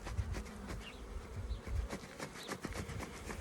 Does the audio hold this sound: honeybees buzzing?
yes